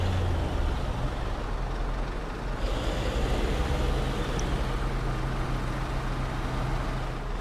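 A Warthog truck in SnowRunner grinds uphill through deep snow, its engine a steady, heavy rumbling drone with continuous broadband roar that shifts slightly in tone partway through.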